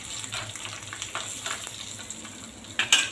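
Dried red chillies hit hot oil in a tempering pan for curd rice, giving a steady close sizzle and crackle with light stirring scrapes and a brief sharper spit near the end.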